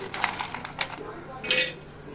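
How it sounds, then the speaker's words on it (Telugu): Dried dates dropped into a large steel mixer grinder jar make several hard clinks and rattles in separate bursts, close and fairly crisp, with a quiet room hum beneath. "పెద్ద మిక్సీ జార్ తీసుకొని ఈ ఎండు ఖర్జూరాలన్నీ దీంట్లో వేసేసుకోండి ఫస్ట్."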